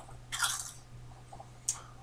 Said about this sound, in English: he's chewing with his mouth open.